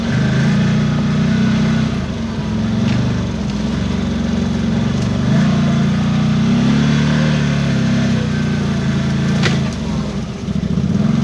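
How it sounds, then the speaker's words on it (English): A CFMOTO Z-Force 950 HO EX side-by-side engine braking in 4 low gives a continuous low drone with a rough, droning tone, steady throughout, close and loud, with no talking. "When it's engine braking, it makes that weird noise or something in 4 low."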